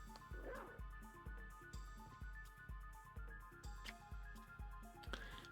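A game dog's rapid, evenly spaced yapping barks with small whimpers, after a dog transformation in Castlevania: Symphony of the Night, repeating steadily throughout over faint game sounds.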